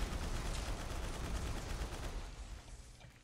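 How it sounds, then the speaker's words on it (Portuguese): Continuous dense gunfire in the dinosaur shooter Primal Carnage: Extinction, a loud sustained burst of rapid shots that fades slightly near the end, with no talking over it. "Eu que tava dando tiro nele"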